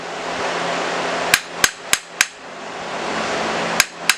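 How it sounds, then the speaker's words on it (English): Sharp metallic hammer strikes driving a screw into metal while fitting a shift selector and detent spring on a 2003 Nissan Maxima, four quick blows then a pause and two more, ringing against metal over a steady background hiss. "put it on top of there, and then hammer it a little bit farther in"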